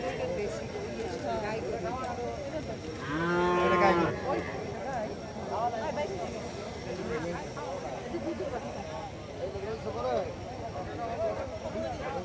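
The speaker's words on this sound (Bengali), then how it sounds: "এই যে পাশে দেখতে পাচ্ছি অসংখ্য বাছুর।" A calf lets out one clear moo amid a busy crowd of people talking nearby at a cattle market in Jamalpur, Bangladesh, with the chatter continuing before and after.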